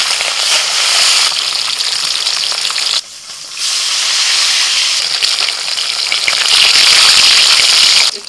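Red mrigal fish fries in smoking-hot mustard oil, a loud, dense, crackling sizzle that runs continuously and dips briefly for a moment before surging back at full strength.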